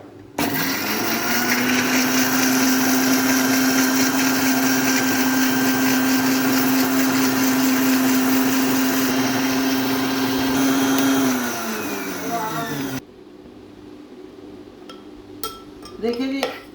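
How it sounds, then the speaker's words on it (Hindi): A kitchen blender grinds almonds with milk, a loud steady motor whine that runs for about eleven seconds, dips and winds down, then stops, leaving a quieter room with a few light clinks. "ब्लेंडर को हम चलाएंगे और बादाम हम अच्छी तरह इसको बारीक कर लेंगे।"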